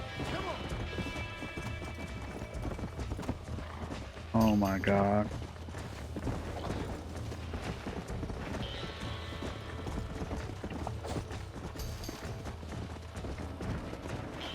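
Horse hooves clip-clopping at a gallop in the Western video game Red Dead Redemption, a steady rhythmic beat under a player's speech, with a brief whinny-like cry partway through.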